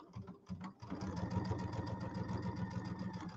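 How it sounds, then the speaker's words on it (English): A sewing machine set to a short 2.5 stitch length runs steadily and close for about three seconds, stitching a seam between two closely spaced lines on a pillow, after a brief hesitant start. "And I'm sewing right down between those two lines."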